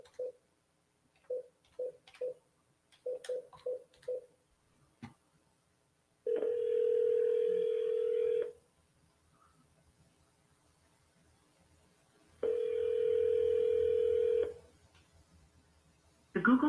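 A phone's keypad plays a quick run of separate dialing beeps, then two long steady tones, each lasting about two seconds with a gap of silence between them, clear and close with nothing else heard.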